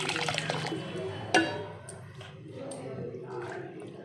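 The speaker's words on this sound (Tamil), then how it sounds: "நல்ல தண்ணி ஊற்றிக்கலாம்" Water pours and splashes into a container of ration rice nearby for idli batter, with a sharp clink at one point and trickling afterward.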